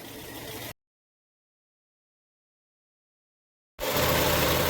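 A nearly new car engine with about 6,400 km on it idles with a low, even hum, cut off by a few seconds of silence before the hum resumes louder.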